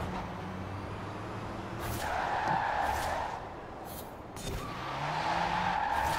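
Volkswagen I.D. R in Forza Horizon 4 braking hard on a wet track, tires skidding and hissing in long smeared bursts over a steady road roar, fairly loud with no talking.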